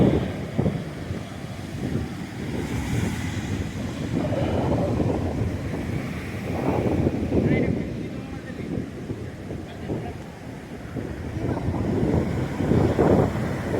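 Wind buffets the microphone at Aryapalli sea beach near Gopalpur port, with steady sea surf rolling beneath in broad swells; a voice talks faintly underneath at times.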